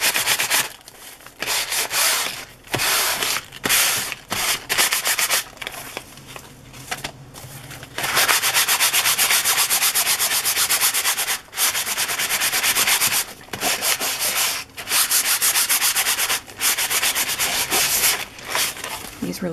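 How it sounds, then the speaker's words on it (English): Sandpaper rubbed by hand across a textured journal cover made from a library book, a steady scratchy rasp in back-and-forth strokes with brief pauses, close and fairly loud with no talk. "So we're gonna take no chances and we're gonna use some sandpaper."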